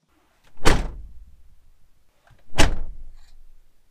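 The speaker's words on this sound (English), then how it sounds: "The door sounds more solid now when I close it." The door of a 1997 Toyota RAV4 fitted with sound deadening insulation closes twice, each a solid, close thump with a short rattle after, separated by quiet.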